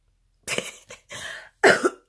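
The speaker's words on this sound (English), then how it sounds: "Sorry, guys, I have a cough." A person coughs several times in quick succession, close and fairly loud, in short dry bursts with brief gaps and a heavier final cough.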